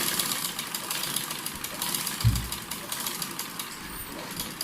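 A sewing machine stitches a shalwar, running as a steady close mechanical whir with rapid needle chatter, including one heavier thump, under a quiet background.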